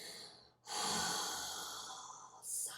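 During a yoga breathing exercise, one long, airy exhale is pushed out through an open mouth, close and soft, fading gradually over two seconds before a quick new breath begins.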